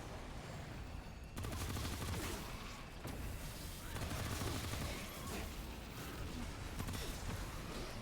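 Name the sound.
grenade launcher fire in a video game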